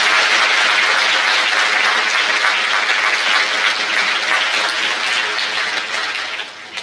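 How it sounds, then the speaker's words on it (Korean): A large audience at a farewell ceremony for departing teachers gives strong, continuous applause that holds steady and then tapers slightly at the end. "출가하시는 선생님들께 감사의 마음을 담아서 크게 박수 한번 드리도록 하겠습니다"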